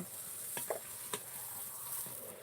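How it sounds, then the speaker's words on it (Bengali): Fuchka puffs fry in hot oil at home with a steady, soft sizzle, punctuated by a few light scrapes and clinks of stirring. "ফুচকা একদম ন্যাচারাল পদ্ধতিতে ভাজা চলছে"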